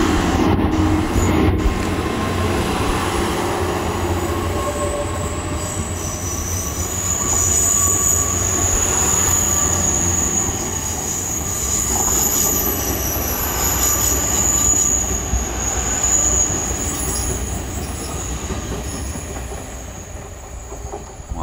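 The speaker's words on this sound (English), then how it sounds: "there goes the Great Western Railway service to London Paddington" A nine-coach GWR Class 800 train runs past on a diversion at Honiton, with loud continuous rumble and wheel noise throughout, steady rail clatter and some high squeal, close by with no talk.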